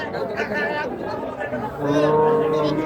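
Dairy cows lowing at a cattle market, several moos rising over a steady crowd murmur, fairly close and loud, with people talking nearby.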